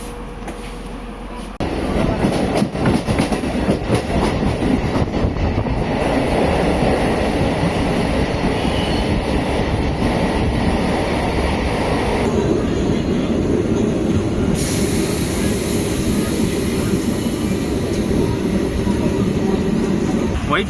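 A MEMU train runs from Bangalore to Jollarpettai with a loud, steady rumble, clatter and rattle throughout. The noise is near and grows fuller after a brief quieter start, with faint voices under the din.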